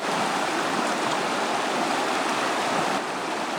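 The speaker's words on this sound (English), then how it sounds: "So this is the Teklanika River." Alaska's Teklanika River, running low, rushes as broadband water noise, a steady close-up roar of flowing current with no voices.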